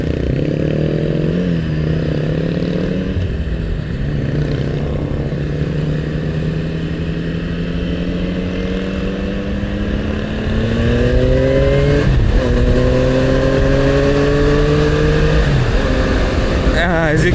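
Yamaha MT-09 motorcycle engine droning loud and steady in commuter traffic, pitch climbing through gears in repeated rising sweeps, with brief shifts and a fuller roar toward the end.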